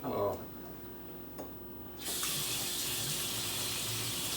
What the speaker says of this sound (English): while I'm washing my hands